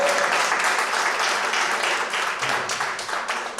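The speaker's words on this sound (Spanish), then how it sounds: "Dame un aplauso al Señor" A church congregation applauds in a thick, sustained burst of clapping that holds strong throughout and tapers slightly at the end.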